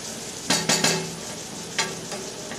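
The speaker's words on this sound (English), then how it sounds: "Now I'm going to stir it up." Garlic and onions frying in a pan and being stirred: a soft, steady sizzle with a few quick scraping strokes of a utensil, three close together and then a couple more, fairly quiet.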